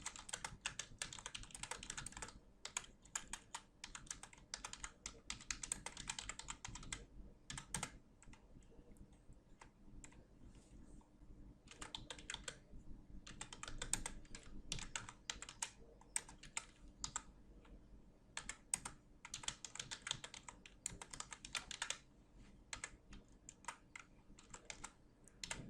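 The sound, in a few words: typing text on a computer keyboard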